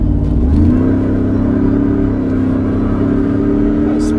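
A 2020 Ford F150 Shelby Super Snake truck accelerates hard from inside the cab, its engine note climbing then holding a loud, steady droning roar.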